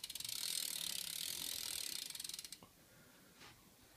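Rear hub ratchet on a BMX bike clicking rapidly and loudly close by as the wheel freewheels, slowing and stopping after a couple of seconds, followed by a faint knock.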